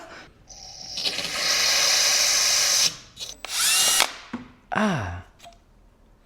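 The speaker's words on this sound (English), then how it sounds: "After we drilled the gunk out of the petcock," Power drill boring old fuel gunk out of a snowmobile fuel petcock, whirring in several loud bursts of different lengths with brief pauses and pitch sweeps as the motor spins up and winds down.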